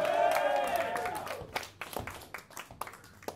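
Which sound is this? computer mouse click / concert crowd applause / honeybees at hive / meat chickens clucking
concert crowd applause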